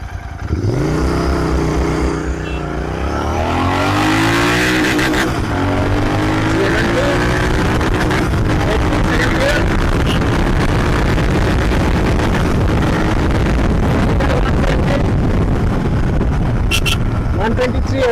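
A Royal Enfield Continental GT650, converted from an Interceptor 650, accelerates hard through a modified loud exhaust, its engine note rising through the gears, close and dominant for about eighteen seconds, with speech over it.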